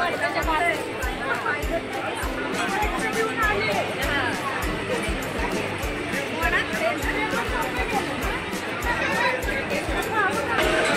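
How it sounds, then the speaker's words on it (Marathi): Dense crowd chatter and babble fill a busy Saptashrungi temple in Vani, with many voices overlapping continuously and steady close footfalls or thumps underneath throughout. "आणि तुम्ही गर्दी बघू शकता मंदिरामध्ये"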